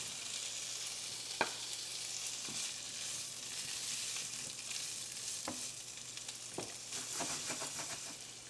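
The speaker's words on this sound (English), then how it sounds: "I've got this really deep skillet, and I'm going to fry my sausage" Sausage fries in a deep skillet with a steady, close sizzle, broken now and then by a few sharp clinks and scrapes; no voices.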